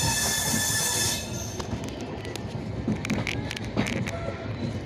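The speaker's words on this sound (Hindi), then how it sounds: "ट्रेन बहुत ही मध्यम गति से आगे बढ़ रही है," A train moves slowly along a railway line in Uttar Pradesh, India, near Utretia junction on the Bachhrawan–Lucknow route. A steady rumble of wheels on track is heard, with brief metallic squeals and clanks. There is no talk.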